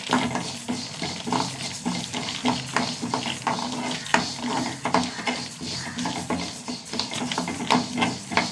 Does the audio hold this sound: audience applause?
no